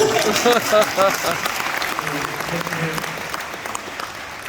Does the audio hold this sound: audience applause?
yes